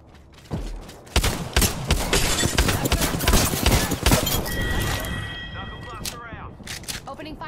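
Bursts of gunfire in the A'Vantage video game, a dense run of sharp shots clustered close together, loud and near, with metallic clanks and game effects mixed in.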